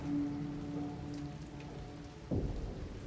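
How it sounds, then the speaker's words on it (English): In Silent Hill 2 Remake, steady rain patters on a truck bed with a low rumble, then a sudden louder thud near the end; no voices. "that's just the sound of the rain hitting the back of the bed of the truck"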